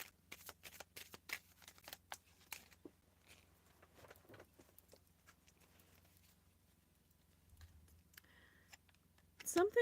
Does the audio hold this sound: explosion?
no